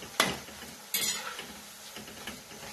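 Papdi frying in hot oil, stirred to separate the pieces, with a soft continuous sizzle and a few scraping, clinking strokes of the spoon against the pan, fairly quiet and without talk.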